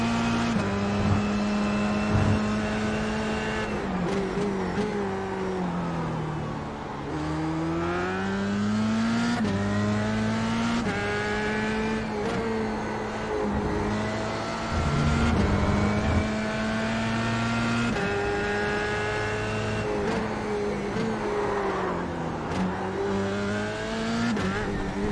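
Dallara F3 open-wheel race cars lapping Brands Hatch GP in iRacing, a continuous loud engine note rising and falling through gear shifts as the cars accelerate and brake, with other cars audible around the leader.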